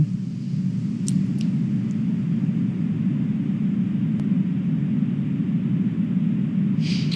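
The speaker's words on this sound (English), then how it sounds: "this is a single engine burn that brings the vehicle speed down rapidly in order to land on the drone ship" A SpaceX Falcon 9 rocket's single-engine landing burn as it descends toward a drone ship after a Kennedy Space Center launch: a loud, steady, deep roaring rumble that holds evenly throughout, with a few faint higher crackles on top.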